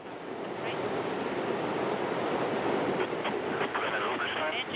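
The engines of the Soyuz TMA-17M rocket roar at launch as a sustained broadband rumble. A faint voice talks over the noise.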